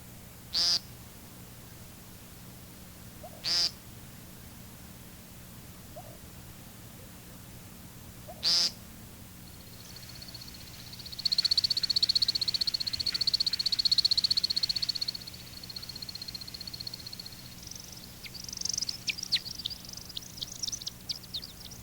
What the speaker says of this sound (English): Here's the American woodcock one more time.